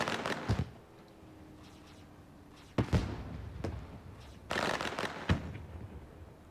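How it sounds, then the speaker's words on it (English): Fireworks burst at a sim racing short-track victory celebration at New Smyrna, a few sharp cracks and booms spaced irregularly across the clip, with a low steady background hum between them. "As the fireworks explode in the background."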